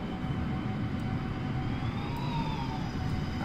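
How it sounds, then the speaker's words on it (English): Aircraft noise at an airport as a plane comes in to land, a steady loud broadband roar with a faint rising and falling tone drifting through it, continuous throughout with no voices. "I hear planes. Who landed?"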